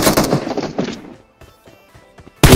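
Gunfire in the mobile shooter BGMI: a loud rapid burst of automatic shots opens, followed by scattered fainter distant cracks and a sudden sharp burst at the very end.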